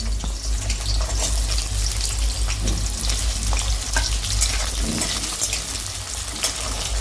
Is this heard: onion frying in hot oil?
yes